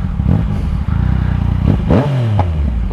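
A new motorcycle runs close and loud with a rough, clattering engine note that steadies, then swells into a sharp rev with a falling and rising pitch near the end.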